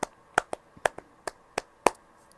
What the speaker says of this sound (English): I wanted to clap my hands for you.